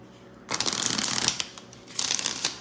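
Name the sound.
shuffling tarot cards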